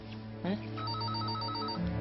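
A telephone rings with a warbling electronic trill in a television drama scene, steady throughout and partly under a voice speaking.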